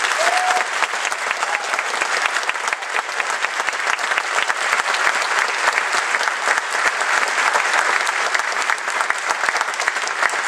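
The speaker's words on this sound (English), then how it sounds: "So let's give them one more round of applause, please" An audience at an honors band concert gives guest conductors a sustained round of applause, dense and steady clapping from a large crowd that holds at an even level the whole way through, with a brief whistle near the start.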